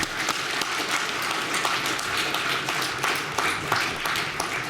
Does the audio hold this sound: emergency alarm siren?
no